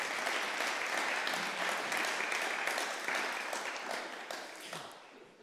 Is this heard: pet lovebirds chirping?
no